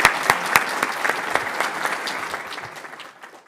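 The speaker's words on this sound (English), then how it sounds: "if everybody could give Siobhan a round of applause for putting this together." Audience applause at a panel event on criminal justice, opening with a few sharp claps, then a brief burst of clapping that quickly thins and fades out within a few seconds.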